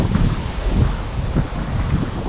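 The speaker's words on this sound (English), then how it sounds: "Some waves are coming in" Ocean waves wash onto a black sand beach in Iceland, a continuous broad roar with soft swells and heavy wind buffeting the microphone, no voices.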